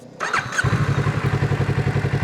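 A motorcycle pulling away from a standstill at the start of a slow slalom riding test, a brief clunk then the engine idling into a steady, pulsing low putter close by.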